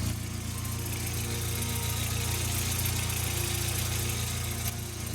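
Audi A4 B5 quattro with a 1.8T turbo engine and test pipe idles steadily, a constant low rumble with a fine rattling tick from the loose wastegate flapper and slight exhaust blow-by, close up with no voices.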